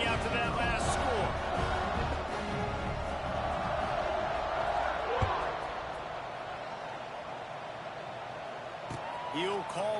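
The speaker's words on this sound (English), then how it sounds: "this crowd is buzzing after that last score" Steady crowd roar filling a video game football stadium late in the fourth quarter after a touchdown, a continuous loud buzz of voices with whoops and cheers rising throughout, an announcer's voice talking over it.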